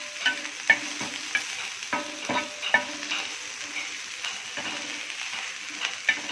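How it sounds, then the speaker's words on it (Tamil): Green chillies, curry leaves and tomatoes sautéing in a pan for roadside-style egg kothu parotta, with a steady sizzle broken by repeated scrapes and clinks of a spoon stirring, close and moderately loud, no talking. "இது கொஞ்சம் அப்படியே நல்லா வதங்கட்டும்."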